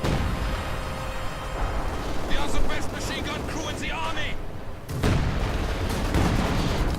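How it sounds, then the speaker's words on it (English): Company of Heroes 2 battle with artillery and gunfire, a commentator talking over a steady din of shots, booms and crackling bursts that grow louder near the end. "armor-piercing rounds being utilised against the AC-76"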